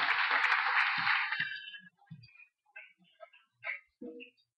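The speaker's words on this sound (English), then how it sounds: "a round of applause for their efforts" A church congregation breaks into applause, a loud burst of clapping for about a second and a half that quickly dies away, followed by faint, scattered voices and small sounds.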